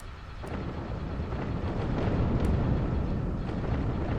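A ship blows apart in the Clone Wars space strategy game Sins of a Galactic Empire: a sustained, heavy explosive rumble swelling slightly toward the end, with a couple of sharp crackling bursts on top.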